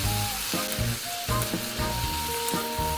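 Zucchini and onion stir-fry in a pan with cooking wine, fish sauce and salt, giving a close, steady sizzle broken by the sharp clatter of stirring.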